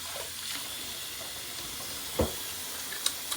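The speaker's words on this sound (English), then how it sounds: "once this gets hot, go ahead and throw the onions in and the mushrooms" Onions and mushrooms sizzle in a hot pot, a steady hissing frying bed with a few sharp crackles and pops, heard close and without talk.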